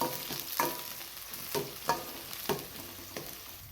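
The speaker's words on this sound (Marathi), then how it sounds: "यामध्ये ही शिमला कट करून घेतलेली, यामध्येच हा पातीचा कांदा कट केलेला। हे छान असं मिक्स करून घ्या।" Chopped capsicum and spring onion being stirred together in a pan for veg manchurian, with a series of spaced, moderately loud scraping strokes over a faint background sizzle.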